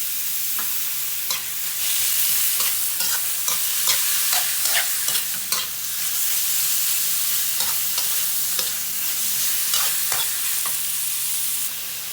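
Meat marinated in soy sauce and pepper stir-fries in a hot pan with a continuous loud sizzle and frequent sharp scrapes and clacks of a spatula, all close up and without voices.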